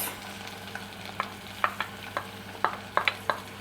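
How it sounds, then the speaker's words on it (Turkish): Onions sautéed in melted fat in a pan for ezogelin soup sizzle softly while a spoon stirs them, giving a string of sharp scraping clicks at an uneven rhythm over a low frying hiss. "Soğanlarımızı ekleyebiliriz. Bunu burada bir güzel kavuracağız."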